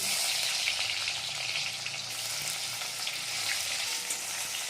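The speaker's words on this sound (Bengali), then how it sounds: "এবার আমরা দিয়ে দেবো পেঁয়াজ কুচি" Chopped onion sizzles steadily in hot oil in a pan for Bengali lentil dal with kochur loti, a dense continuous frying hiss with no voices.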